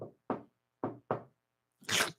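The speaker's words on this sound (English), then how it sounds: "Hey, it's me knocking on the door." A series of knocks on a door in an irregular rhythm, several clear separate raps followed by a louder, broader thump at the end.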